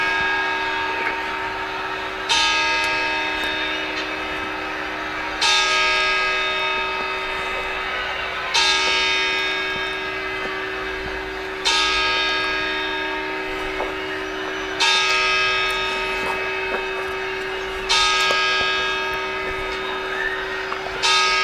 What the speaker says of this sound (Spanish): Ahora las campanadas.